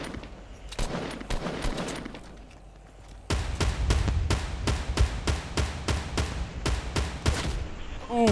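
Rapid bursts of video game gunfire ring out during a match as a teammate is shot: scattered shots first, then steady, evenly spaced loud reports in quick succession, close and dominant.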